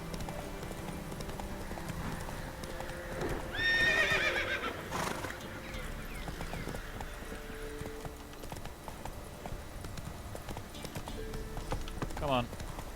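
Roach, a horse in the Witcher 3 video game, gallops with steady clip-clop hoofbeats and lets out a loud whinny midway, while a person talks over the game sounds.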